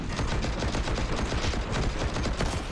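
Dense, continuous gunfire from a Counter-Strike pro match, rapid overlapping shots and bursts, loud and close throughout, with no pauses.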